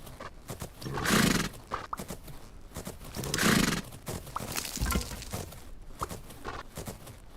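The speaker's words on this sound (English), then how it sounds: "Should be able to do a working canter all the way through." A horse canters in the video game Fernhoof Grove, with rhythmic hoof clip-clops running throughout and two loud, breathy whinnies rising above them, close and without any voices.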